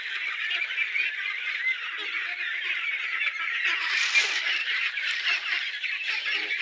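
Ducks and chickens crowded in a pen make a steady, busy chorus of honking and clucking that stays close and fairly loud throughout, with a brief louder burst near the middle.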